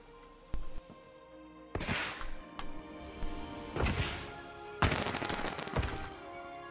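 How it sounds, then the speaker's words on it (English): Fireworks show in the theme-park game Planet Coaster: several loud bursts and crackling booms spaced a second or so apart, each with a sharp thump followed by a spreading fizz, with no talking. "This is my only fireworks show."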